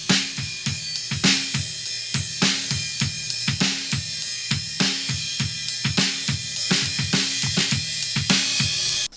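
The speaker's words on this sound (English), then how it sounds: "But now listen to what happens to the snare when I bring down the threshold of the compressor." A drum-kit recording from a rehearsal room, captured with four mics, plays a steady beat of loud, repeated snare hits. The hits are compressed with a lowered threshold, so each one carries slightly longer sustain beneath cymbal wash.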